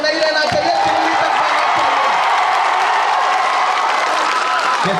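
A dense crowd at a Congress political rally in Dahod roars with cheering, whoops and applause, loud and continuous for about five seconds, with voices blended through the noise.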